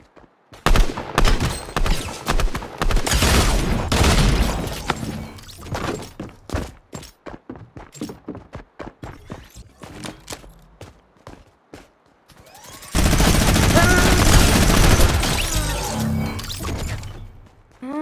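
Shotgun and pistol fire in the Fortnite video game: dense volleys of loud, close shots, then a stretch of separate sharp single reports, then another sustained roaring burst of gunfire near the end, with no talking.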